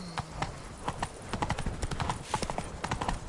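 Roach, a horse in The Witcher 3, gallops with steady, close clip-clop hoofbeats that carry on throughout without pause.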